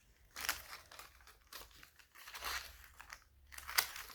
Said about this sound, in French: Je colle mon double face sur du papier sulfurisé et je viens couper